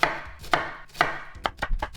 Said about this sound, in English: And for that, I'm gonna dice the onion.